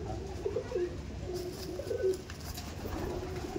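Pigeons coo in a loft housing a large flock of domestic pigeons, several soft rolling coos rising over a steady low background hum, with no talk.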